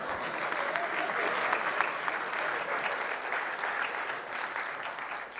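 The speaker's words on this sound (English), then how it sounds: "Another round of applause, please, for Hugo." A conference audience applauds a speaker at the Meet Magento 2026 event, dense continuous clapping filling the room at a steady level with no break.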